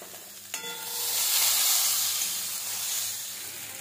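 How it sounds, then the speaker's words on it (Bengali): Chopped tomato hitting hot oil with onion and spices, a sharp clatter followed by a loud rising sizzle and hiss that settles into steady frying, close up. "দিয়ে দিচ্ছি টমেটো কুচনো, এটাও ভেজে নেব।"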